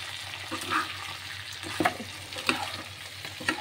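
Boiled potato pieces stirred with turmeric, chopped green chilli and salt, a few soft scraping and clinking strokes at irregular intervals over a light sizzling background.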